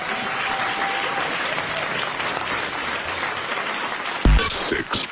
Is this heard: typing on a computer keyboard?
no